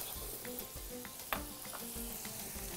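Butter with béchamel powder is stirred in a pan with a soft, fairly quiet sizzle under repeated stirring strokes and one sharper clink midway.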